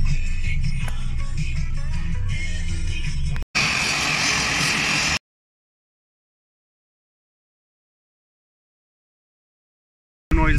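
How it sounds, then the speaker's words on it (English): Bursts of a droning small propeller plane engine in Juneau, Alaska, steady and fairly close, broken by abrupt cuts and a long silent gap. "behind the building it's where all the small planes will fly out and do different tours"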